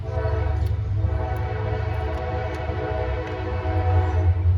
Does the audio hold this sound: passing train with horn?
yes